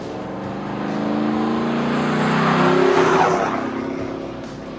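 A 2011–2014 GM 2500 HD or 3500 HD pickup with a 6-liter gas engine and Flowmaster American Thunder catback dual exhaust rumbles past, its deep engine note swelling as it nears and fading away.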